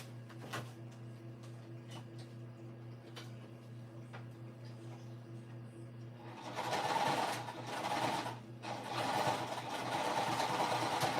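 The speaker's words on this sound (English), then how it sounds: "I love the finished look of box corners, but I hate sewing them." A sewing machine stitches the box corners of a fabric project, running in steady bursts over a low constant hum, loud and close, with a short pause between runs.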